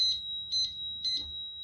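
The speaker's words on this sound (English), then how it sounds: "that made my alarm go off because of the I guess the shock or vibration of it" The anti-theft alarm on an Aventon Aventure 2 e-bike, set off by a shock or vibration, sounds as a piercing high electronic tone pulsing in three short double chirps, clear and close.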